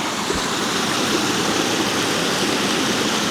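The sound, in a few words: ITEHIL portable reverse osmosis water purifier running, water flowing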